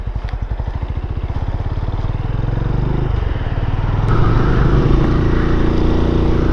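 Benelli Imperiale 400 single-cylinder motorcycle riding along a narrow back lane, a close, loud thumping engine note with a steady pulse that rises as it accelerates, with wind rush over the microphone.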